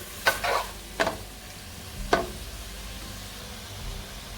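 Cuttlefish being tempered in a frying pan in a Sri Lankan kitchen, with three sharp spatula scrapes and clatters over a faint, steady sizzle, and no voices.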